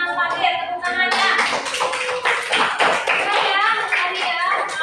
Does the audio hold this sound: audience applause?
yes